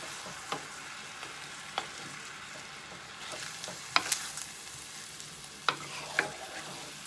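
Ground beef seasoned with salt and pepper sizzles in a pan for taco filling, with a steady frying hiss broken by several sharp scrapes and clatters as the meat is tossed and stirred.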